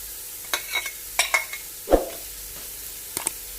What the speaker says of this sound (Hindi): अच्छी तरह से सौटे करेंगे।